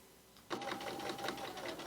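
A sewing machine starts abruptly and runs in a fast, steady, close whir with a rapid needle rhythm while stitching the hem of a pair of jeans.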